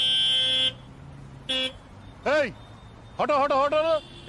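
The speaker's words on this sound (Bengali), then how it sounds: "এখানে এসে হর্ন বাজাচ্ছে কেন তো জোরে জোরে?" A taxi horn sounding at a gate gives a long steady blast and then a short second toot, followed by people talking loudly nearby.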